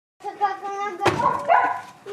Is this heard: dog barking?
yes